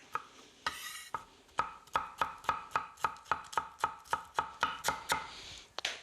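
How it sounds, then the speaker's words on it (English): A knife works through coriander roots on a chopping board, a brief scrape followed by a run of about a dozen crisp, evenly spaced chops, close and fairly quiet, with no talk. "scrape the roots"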